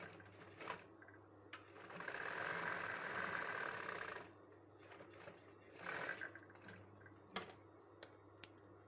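A sewing machine stitches a jacket pocket in bursts, a steady whirring run of rapid needle taps that stops and restarts, fairly quiet and close, with brief clicks and handling noises between runs.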